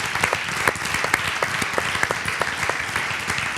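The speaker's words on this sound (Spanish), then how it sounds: "aplauso para él." Steady clapping from an audience at a live interview event welcomes a football player, a dense run of hand claps holding at an even level throughout.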